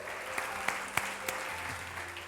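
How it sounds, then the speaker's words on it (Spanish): A church congregation claps together in a brief burst of applause, moderately distant and reverberant, with a few distinct louder claps and a faint voice underneath. "Dale fuerte el aplauso."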